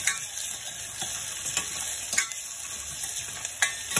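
Sprouted moong with asafoetida sautéed in a pan, a steady close sizzle with repeated scraping stirs of a spoon against the pan, no voices.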